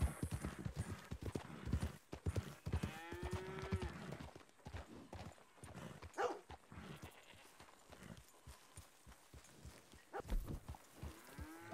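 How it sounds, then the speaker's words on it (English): Cows close by on a farm, with low lowing calls and hoof clip-clop mixed into a busy, moderately loud outdoor scene; no talking is heard. "we got some cows over here."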